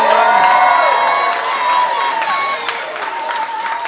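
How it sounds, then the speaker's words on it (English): A comedy show audience cheers and claps loudly for the performers, with whoops and shouting voices in a sustained, dense wave of crowd noise. "Nice round of applause one more time for Rudolfio and Erin Rollman."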